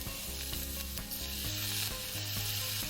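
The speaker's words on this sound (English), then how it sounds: "Now that the roasted pork is nicely coated in the oil, I'm gonna add some soy sauce" Roasted pork coated in oil sizzles steadily in a hot pan as soy sauce goes in, a loud continuous frying hiss with stirring scrapes under background music.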